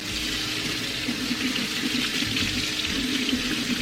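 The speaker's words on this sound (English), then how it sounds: "I am going to add my black beans and run it under cold water" Cold tap water runs steadily over black beans in a colander, a close, continuous hissing splash with no talk.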